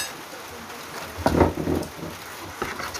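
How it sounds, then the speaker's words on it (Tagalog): Rain falls steadily in a rural outdoor setting, a soft continuous patter with a brief louder gust of drops, and faint voices speak nearby. "Naulan."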